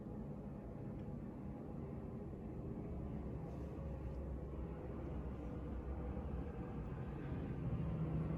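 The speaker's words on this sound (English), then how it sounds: "It is a giant plane, and it is too close." A giant plane flies very close overhead, a steady low rumbling roar that builds slightly over several seconds, no speech heard.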